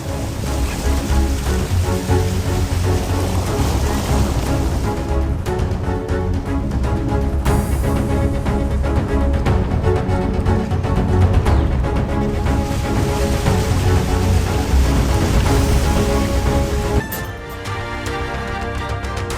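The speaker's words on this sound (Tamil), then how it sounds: "தூத்துக்குடி மாவட்டம் காயல்பட்டினத்தில் பெய்த தொடர் கனமழையால் குடியிருப்புகளை சூழ்ந்த மழை வெள்ளம்" Heavy, continuous rain pours down steadily over flooded residential streets in Kayalpattinam, Thoothukudi district, a loud, dense hiss with no pauses and a slight change in tone near the end.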